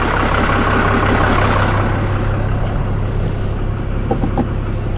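A farm tractor engine runs steadily during crop spraying in a rapeseed field, a constant low rumble holding even and close throughout, with a couple of faint clicks near the end.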